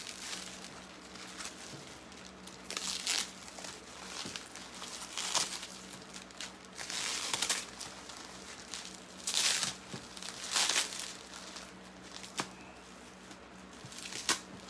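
Tape peeling and crinkling off the protective wrapping on Kistler fishing rods, in scattered close bursts of tearing and crackling plastic over a quiet background.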